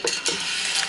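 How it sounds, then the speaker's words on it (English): Toasted air-fried tortilla chips tumbling into a bowl, two quick crisp rustling clatters followed by a continuous dry hiss over under a second, close and without talk. "We're gonna put them right in the bowl."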